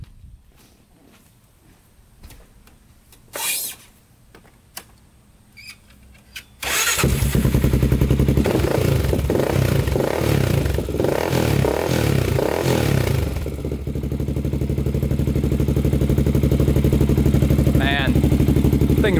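A quad ATV with a rebuilt four-stroke engine clatters and scrapes quietly, then starts and runs loud and steady, its rough engine note rising as it sets off. A voice speaks over it.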